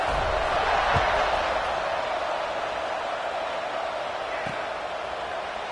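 A broad, steady roar from a stadium crowd in the College Football 26 video game fills the whole stretch as a continuous wash of cheering at constant loudness, with no clear speech on top.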